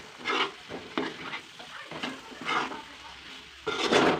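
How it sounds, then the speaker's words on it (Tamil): Chicken roast being stirred in a pan with lemon juice, giving repeated scraping stirs over a steady sizzle in bursts roughly every second, close and fairly loud with no talking. "இப்போ கடைசியாக ஒரு தடவை நல்லா கிண்டி விட்டுடலாம்"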